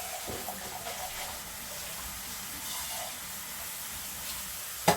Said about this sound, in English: of beans that we are rinsing. We're removing all the liquid out of it and rinsing it.